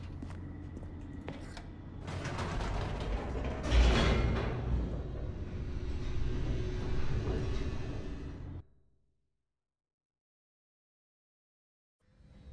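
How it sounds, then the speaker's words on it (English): The Stanley Parable elevator drops with a steady mechanical rumble and creaking hum for about eight seconds, swells briefly partway through, then cuts to near silence before a faint sound returns at the very end. "The elevator raced downward, plummeting towards an unknown fate."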